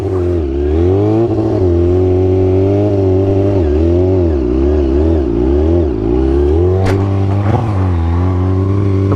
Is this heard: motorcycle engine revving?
yes